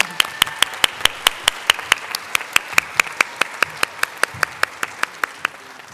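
At a staff service awards ceremony, an audience claps for long-serving honorees, a steady mass of applause marked by a loud, evenly spaced single clap close by, gradually thinning toward the end.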